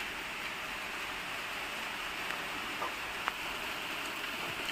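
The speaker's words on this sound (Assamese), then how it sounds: "চাউণ্ডটো আপোনালোকে শুনিছে চাগে বাহিৰত পূৰা ডাঙৰকৈ বৰষুণ" Steady, heavy rain pours down outdoors in a continuous broadband hiss, even and unbroken with a few faint drips standing out, and no one speaks.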